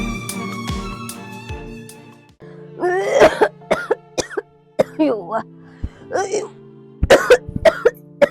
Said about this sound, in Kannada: ಕೆಮ್ಮು ಹೆಚ್ಚಾಗೈತಿವ್ವ